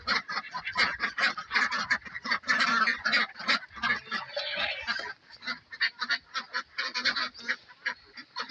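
Domestic ducks kept on a rooftop at feeding time, a flock quacking and honking loudly and continuously at close range with overlapping calls.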